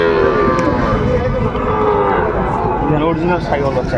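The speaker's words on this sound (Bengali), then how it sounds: "অরিজিনাল শাহিওয়ালের বকনা বাচ্চা" Sahiwal heifer calves, about four to five months old, moo loudly and close by in a long, drawn-out continuous call, with layered bellowing that overlaps throughout.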